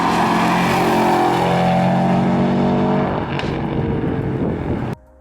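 Turbocharged 2008-2014 Subaru WRX running E85 with upgrades, a loud, close engine rumble with rising harmonic tones as it accelerates and pulls through the gears, then cutting off abruptly near the end.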